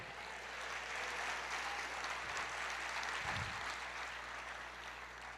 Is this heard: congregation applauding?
yes